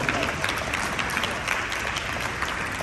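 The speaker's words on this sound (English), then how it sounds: "Please give Mr. John Bailey another round of applause." Sustained applause from an audience at a high school aviation symposium closing ceremony, steady dense clapping that fills the room throughout without a break.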